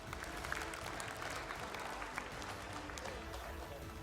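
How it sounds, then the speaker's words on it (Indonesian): Applause fills an auditorium at a Jakarta civic event, a steady dense clatter of many hands from a seated audience, sustained at an even level for several seconds. "Tepuk tangan untuk kita semua di sini"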